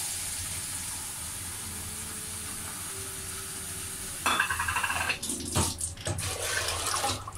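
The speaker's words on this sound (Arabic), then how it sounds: "واحطهم على الفول اهو، واحط هنا شويه ميه" Water poured onto sprouted fava beans for soup in a home kitchen, a steady splashing stream arriving halfway through over low background hiss, with a few knocks of the pot.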